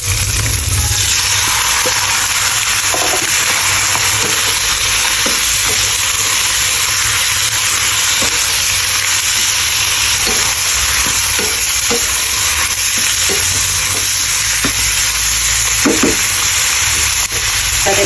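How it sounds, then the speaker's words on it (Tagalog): Meat for Filipino menudo fries in a pan, sizzling loudly and steadily throughout with a dense hiss and occasional stirring clicks, close up and without talk. "Lalagyan na natin ang ating meat."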